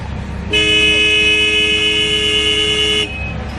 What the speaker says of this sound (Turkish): Kornaya bas. Bak kornaya bak kornaya.